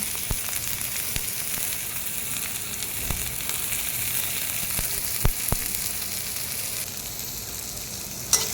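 Garlic cloves and chopped onion frying in oil in a wok for a brinjal mash, producing an even, close sizzle with occasional sharp clicks of stirring, steady and moderately quiet, without any voices.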